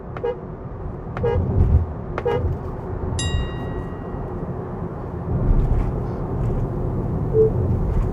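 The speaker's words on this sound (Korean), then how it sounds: "지금 한 100km 정도의 속도에서 같이 악셀 오프를 했는데 이 모델 Y가 지금 더 강하게 제동이 걸리는 모습을 확인하실 수 있었고요" Cabin road noise from a Tesla Model Y RWD coasting at around 100 km/h alongside another car, a continuous low rumble with a few short clicks and a brief high electronic chime partway through.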